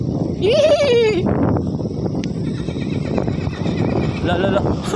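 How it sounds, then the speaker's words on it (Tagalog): A horse gives a loud, close whinny, a rising then falling squeal lasting about a second. Clip-clopping hooves and a bustle of outdoor noise follow, with a short second call near the end. "Sumagot yung kabayo."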